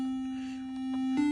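A bright melodic dubstep synth lead played on a Roland Aira Compact, a single sustained saw-like tone with steady overtones and a short accent near the end, heard alone.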